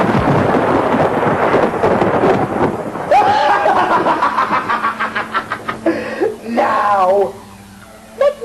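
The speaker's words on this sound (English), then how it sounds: "the conditions clearly call for massive thunderstorm activity" Thunderstorm rumble with heavy low roar filling the first few seconds, fading as a voice talks over the remainder.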